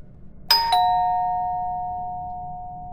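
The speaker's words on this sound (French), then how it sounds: "Alors, la sonnette, elle est où?" A doorbell sounds a clear two-tone ding-dong at an apartment door, both chimes close and loud, then ringing out in a long fading tone over faint room hiss.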